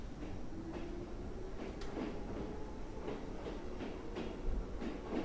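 Train moving in the horror video game Kaii Shoukougun 3, a steady rumble with repeated soft clacks and rattles at a regular rhythm, continuous and moderately close throughout.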